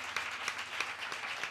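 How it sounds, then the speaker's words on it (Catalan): A small audience claps after a first live concert, a short, fairly faint patter of applause with a few sharper individual claps standing out. "Un aplaudiment, també"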